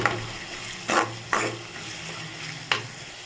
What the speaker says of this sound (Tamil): பாருங்கள், நமக்கு வெங்காயம் நல்லா வதக்கிட்டுருக்கு.